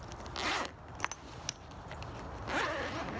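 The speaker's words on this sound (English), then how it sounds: "It has the main zipper here," Main zipper on a Viking Moto motorcycle backpack being pulled, two quiet rasping zip strokes separated by a pause with a couple of small clicks, close and fairly faint.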